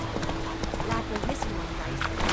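Hooves of the horse Roach clip-clop at a steady gallop in The Witcher 3, with an occasional whinny, under a continuous game soundscape and a man's speech.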